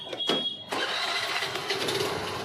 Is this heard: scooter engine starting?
yes